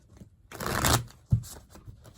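A brief riffle of tarot cards shuffling, followed by a soft tap of the deck, close and quiet with no talking.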